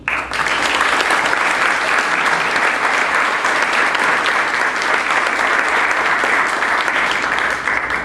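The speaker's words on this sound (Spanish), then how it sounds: "pido un aplauso para todos ellos" Sustained audience applause for former students at a book event, a dense wash of clapping from a sizeable crowd that stays loud and even for about eight seconds before fading at the end.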